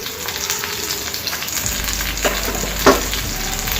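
Curry leaves and turmeric frying in oil in a pan for lemon pulihora, a steady close sizzle with a couple of brief sharp pops and stirring clinks.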